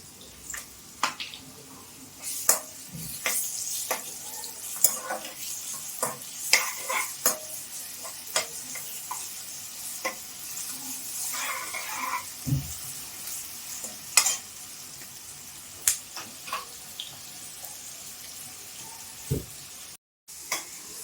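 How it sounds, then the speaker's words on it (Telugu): Fried onions with ginger garlic paste sautéing in a pan for fried rice and aloo kurma, a soft continuous sizzle broken by frequent scraping stirs and occasional metal clinks, fairly quiet and close, with no talking. "ఉల్లిపాయలు ఫ్రై అయ్యాక అల్లం వెల్లుల్లి పేస్ట్ వేయాలి."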